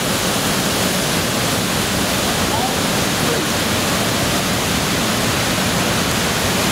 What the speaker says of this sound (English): One more view of the waterfall from the side.